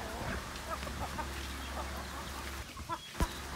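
Chickens feed on ipil-ipil greens on a range, giving soft clucks and scattered pecking amid a steady low hum and outdoor background noise.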